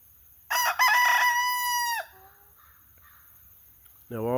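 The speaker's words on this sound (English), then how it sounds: "Now all the chickens are accounted for" A backyard rooster crows loudly and close, a long drawn-out call, followed by a quieter clucking chicken and another rooster crow starting at the end.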